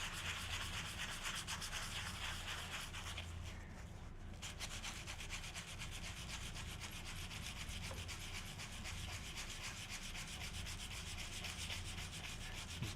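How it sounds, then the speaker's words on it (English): Wood coated with epoxy being sanded by hand, a continuous rapid scratchy rasping that runs steadily and close for the whole stretch, with a brief lighter patch partway through and no talking. "I just got some sanding to do."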